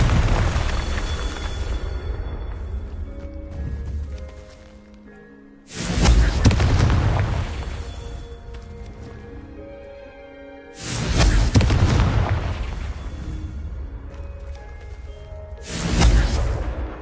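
Three heavy blasts from the Confringo fire spell in Hogwarts Legacy, each a loud booming burst with a rumbling tail that fades before the next one, spaced several seconds apart.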